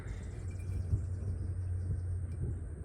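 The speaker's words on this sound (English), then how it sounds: "Ooh, thunder." Low, steady thunder rumbling from a distant storm, heard indoors at a farmhouse, with a slight swell near the start and a continuous deep roll throughout, no voices.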